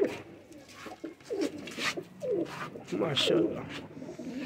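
Ferozpuri pigeons coo in soft, repeated throaty rolls close by, while someone speaks briefly over them.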